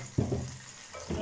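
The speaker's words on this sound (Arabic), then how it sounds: "نزيد نقليها." Tomato sauce fries in a pan for a potato and minced meat tagine, with a sudden loud sizzle as it hits the heat, then a softer bubbling hiss and a second brief surge.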